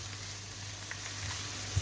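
Chopped onion fries gently in a pan over moderate heat, making a soft, steady, faint sizzle with one small pop near the end.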